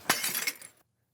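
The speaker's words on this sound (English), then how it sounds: "Suddenly, she cracked open the jar," A sealed jar of expensive nard perfume cracks open as a sound effect, a sharp glassy break followed by a short tinkling shatter that dies away abruptly into silence.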